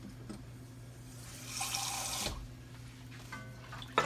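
Water pours from a tap into a pot of seasoned oxtails, a steady rushing splash for about a second before cutting off, with quiet kitchen clatter around it.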